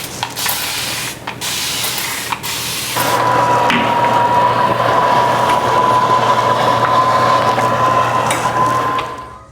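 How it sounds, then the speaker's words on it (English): Water is sprayed into a hot oven while sourdough made from fresh-milled flour bakes: several short spritzes, then a long continuous hiss with a steady tonal whine. It is loud and close, and no one speaks. "So I am going to spray the oven with water continuously throughout the process."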